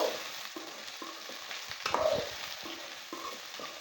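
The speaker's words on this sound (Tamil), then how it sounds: "இந்த மாதிரி வந்து அடியிலருந்து பெரட்டி போட்டு பெரட்டி போட்டு கிளறணும்" Okra frying in a pan and being turned over from the bottom, a soft continuous sizzle broken by several scraping strokes of a spoon, one louder stir in the middle.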